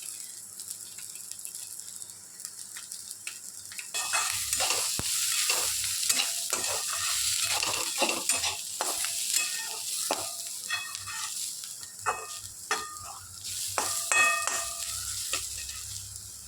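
Spices roast and sizzle in hot oil for a village-style egg curry, quiet at first before a loud, steady frying hiss, with repeated spoon scrapes and clinks against the pan.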